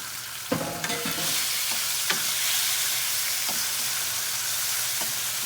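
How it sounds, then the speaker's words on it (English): A steady, loud hiss of beef frying in a hot pan for pepper steak fills the whole stretch, with a few scraping stirs and clinks near the start. "Let's put all the beef in. Look, sizzling sound."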